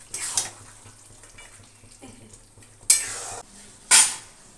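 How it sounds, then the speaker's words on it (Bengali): Fish heads drop into a pot of cooked rice and get stirred, with soft rustling movement and a few sharp clattering scrapes of the spoon against the pot over a quiet background. "এবার দিয়ে দেব হচ্ছে মাছের মুড়োগুলো, মাথাগুলো দিয়ে দেব, দিয়ে এবার একটু নাড়াচাড়া করব।"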